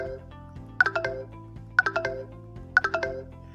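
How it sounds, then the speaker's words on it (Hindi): Samsung phone alert for a disconnected charger: a short, soft chime of several quick descending tones, heard three times at an even pace over a faint steady hum. "Play the sound when the charger is disconnected."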